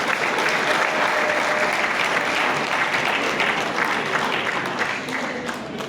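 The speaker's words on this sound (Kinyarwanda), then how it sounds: "abantu tubakomera amashyi menshi cyane" Wedding guests at a Rwandan wedding celebration break into loud, sustained applause, a dense steady wash of many hands clapping together that eases slightly toward the end.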